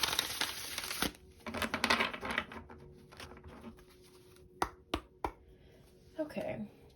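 Tarot cards are shuffled by hand close up, a quick riffling flutter at first, then sparse sharp card snaps and taps amid quieter rustling, with a voice speaking in between.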